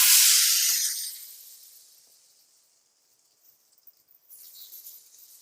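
Raw banana slices frying like white anchovies on an iron tawa give a bright, close sizzle that fades within about two seconds. Faint scattered crackles follow.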